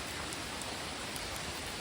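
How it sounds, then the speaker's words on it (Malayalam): Heavy rain falls outdoors, making a soft, continuous hiss that stays even and fairly faint for the whole moment, with no voices. "പുറത്ത് നല്ല മഴയാണ് ഗൈസ്"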